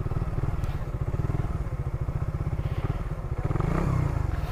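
A Suzuki Raider 150 Fi motorcycle engine runs close up with a steady, rapid pulsing exhaust thrum that swells slightly near the end as it revs.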